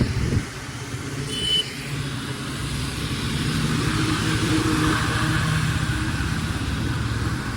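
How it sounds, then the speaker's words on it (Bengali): Vehicles pass along a rain-soaked road, a continuous engine and tyre hiss that swells and holds steady, heard close from a moving vehicle in the rain. "বৃষ্টির মধ্যে যাচ্ছি, দেখুন গাড়িগুলো"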